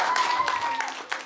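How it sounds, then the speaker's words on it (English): A live audience at Aerospace Bristol gives a short round of clapping, moderately loud and thinning out toward the end, with a voice briefly heard alongside. "Should we give Alana a big round of applause?"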